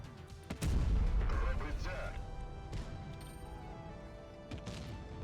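Heavy tank cannon blasts boom out in World of Tanks Blitz, a loud shot early followed by another, with a voice talking over the echoing rumble.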